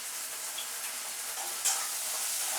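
Egg bhurji with schezwan sauce is stirred and fried in a pan, a constant soft sizzle with faint spatula scrapes and one brief sharper click near the middle, no voice.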